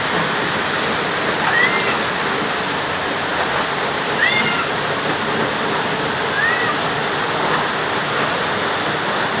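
Floodwater pours into a house in a steady, loud rushing roar, a constant dense wash of water that sounds like a waterfall, with a few faint high chirps over it and no speech.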